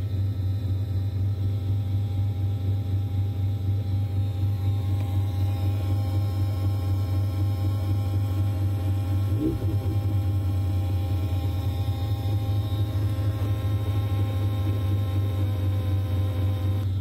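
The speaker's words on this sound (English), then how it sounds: "So yeah, the fuel pump gets really loud." A constant loud mechanical whir and hum from the fuel pump of a Mazda RX-7 with a bridgeport 13B rotary engine, steady throughout with a faint bump midway, no voices.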